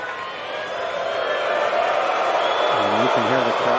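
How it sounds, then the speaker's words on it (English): Crowd murmur and restless noise from spectators at a 2021 US Open first-round tennis match, Andy Murray against Stefanos Tsitsipas, in the fifth set, reacting against Tsitsipas, steady and full throughout with a brief voice rising near the end. "And you can hear the crowd. They're getting on Tsitsipas for any delay now"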